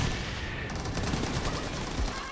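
Gunfire in the battle royale game BGMI, dense rapid automatic bursts that fill the whole stretch, loud and close, with no talking over them.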